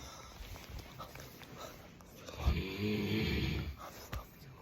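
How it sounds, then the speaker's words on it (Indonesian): A person snoring while asleep, rough rasping breaths recurring at close range, one long loud snore swelling near the middle, with some faint background noise. "Komplikasi punya temen tidur ngorok."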